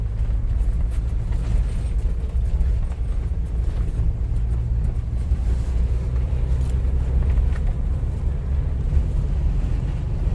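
A 2022 Ford Bronco in 4x4 spins its wheels off-road, giving a continuous heavy low rumble of engine and tires with steady wind buffeting, loud and unbroken throughout.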